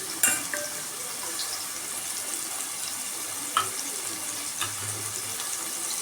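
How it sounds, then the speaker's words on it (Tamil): Vegetables for a veg pulao fry in oil in a pan, making a steady close sizzle with a few sharp clinks of a utensil against the pan. "இது நல்லா கொஞ்சம் பொரியட்டும்"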